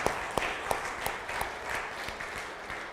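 Church congregation applauding in a worship service, a soft, even wash of clapping with a few sharper individual claps, moderately distant and steady throughout.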